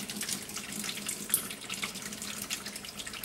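Hot water flows and splashes steadily after a valve is opened on a laboratory extended tube heat exchanger apparatus's hot water tank, a continuous close rushing sound with small drips.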